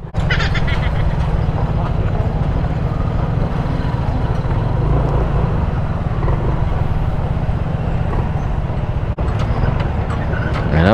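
Vehicles pass along Old Zigzag Road near Barangay Bigueto Viejo in Bicol, heard under the steady, loud drone of a Yamaha Nmax 155 scooter and wind noise during the ride.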